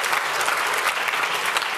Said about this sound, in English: please give a warm applause to our speaker, Tim Becker